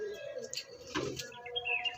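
Andhra breed pigeons cooing and calling softly in their loft, a few faint, intermittent coos and chirps close by with quiet background noise.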